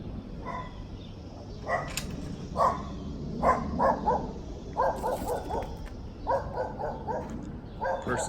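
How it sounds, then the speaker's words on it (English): A dog barks repeatedly in short bursts, some single barks and some quick runs of three or four, heard at a moderate distance outdoors. "I think that dog is still barking."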